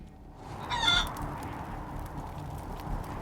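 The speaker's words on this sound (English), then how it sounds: "Another cyborg chicken. Cluck cluck." Cyborg chicken in the video game Wasteland 3 giving one short, mid-loud fowl cluck or honk near the start, then fading into faint game ambience.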